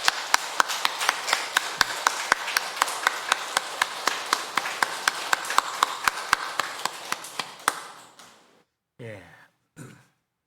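Congregation applauding during a Sunday church service, a loud, rhythmic run of clapping that fades out after about eight seconds, followed by a couple of short bursts of speech.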